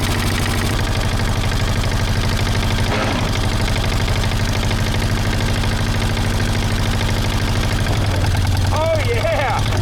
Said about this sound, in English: I just want to try and see if the engine is going to spin now.